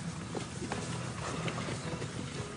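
Herd of Camargue horses on the move during a summer transhumance, a dense, continuous patter of hooves on the ground at moderate distance, with no voices.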